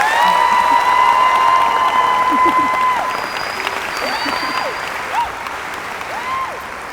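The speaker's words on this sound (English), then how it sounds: "Please help me with a warm round of applause for Maritza McClendon" A large audience at the University of Georgia commencement breaks into loud, sustained applause with whistles and whoops rising above it, easing slightly toward the end.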